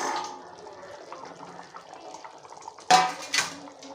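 A pot of spicy taro root curry bubbling and simmering steadily, with two sharp clanks of utensils near the end.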